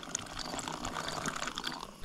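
Water is poured from a bottle into a flameless heater bag for a dry trekking meal at a camp, a close, steady trickling and gurgling lasting about two seconds with no talking.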